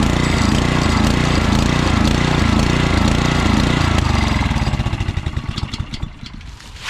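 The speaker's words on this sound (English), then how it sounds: "There's your Honda 5 horsepower engine" A Honda 5 horsepower engine salvaged from a pressure washer runs loud and steady close by, its dense rhythmic chugging slowing and thinning near the end as it winds down.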